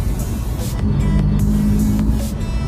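A Vauxhall Corsa with a Cobra sports exhaust revs hard and loud up close, with a deep, raspy exhaust roar that surges in a few quick pulses throughout.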